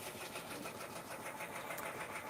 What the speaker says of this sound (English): let me take y'all over here to the sewing machine